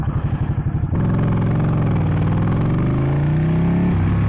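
A Ducati 899 Panigale sport motorcycle engine idles with a rapid pulsing putter, then revs up sharply and climbs in pitch through strong, loud acceleration.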